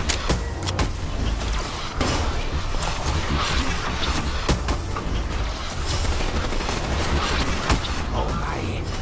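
Ray Gun Mark III fire in Call of Duty: Black Ops III Zombies, dense bursts of energy shots and booms layered over continuous game noise, loud and sustained, with someone talking faintly at times.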